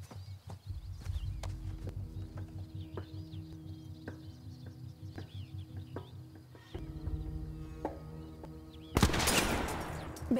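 Gunfire in the horror video game The Quarry, a run of sharp repeated shots with clattering, rhythmic game sound effects over a low hum, ending in a louder noisy burst.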